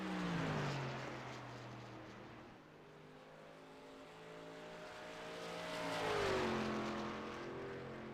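Engine of the number 26 Toyota stock car in a simulated night race at Phoenix, a loud steady drone that sags mid-lap and climbs again as it revs, with the pitch sweeping upward near the end.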